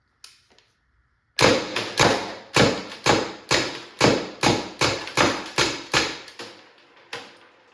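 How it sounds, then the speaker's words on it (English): Tippmann TMC paintball marker fired in a steady string of about a dozen sharp, loud, close shots at an even rhythm, each with a short decaying tail, after a few faint clicks and a brief silence. "So I'll bang the rest of these rounds off."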